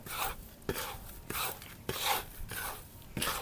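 Hands mixing a handful of mustard oil cake with a handful of neem cake into organic fertilizer, giving repeated gritty rubbing and scraping strokes at a steady rhythm, close and fairly soft, with no talking.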